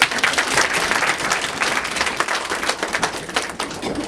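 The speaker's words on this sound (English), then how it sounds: "Clap, please." A group of nursing doctors at a hospital yoga session claps together, a loud, busy patter of many hands sustained throughout, close and continuous.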